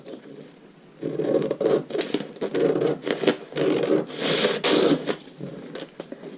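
Scissors work through fabric while a halter top pattern is cut out: close, steady rasping and scraping strokes in quick repeated bursts after a quieter start.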